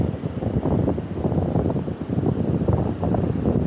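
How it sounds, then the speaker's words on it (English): Steady wind at a beach fishing spot roars and buffets the microphone over a rumbling wash of surf, loud and continuous with no talking. "We probably have a 7-mile-an-hour wind today."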